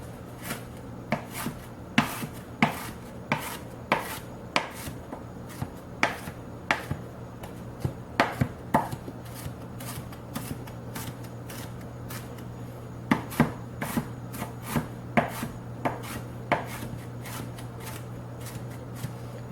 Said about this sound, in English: we are going to just simply start chopping it up